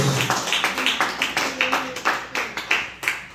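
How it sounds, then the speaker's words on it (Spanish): Rhythmic, evenly paced clapping from a church congregation during worship, with voices faintly mixed in beneath the steady claps. "Un aplauso al Señor"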